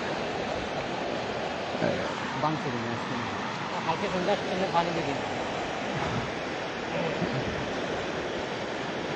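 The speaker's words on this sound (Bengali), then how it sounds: "ঠিক সেই জায়গায় হয়তো পানির গর্জন আপনারা শুনতে পাচ্ছেন।" Floodwater roaring through a breached Dholai river embankment during the 2024 Sylhet flood makes a steady, loud broadband rush throughout, with a voice talking over it.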